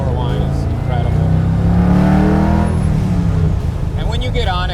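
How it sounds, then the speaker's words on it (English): A Whipple supercharger on a supercharged LSX engine in a 1967 Chevy Camaro restomod whines as the engine revs up, the loud rising whine over a deep exhaust rumble at close range. "that Whipple blower whine is incredible"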